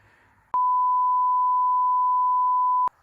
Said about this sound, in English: Beep this out, obviously